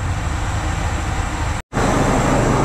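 Steady loud rumble of the Upakul Express passenger train running on the Dhaka–Noakhali line, a continuous broadband roar with a brief dropout near the end.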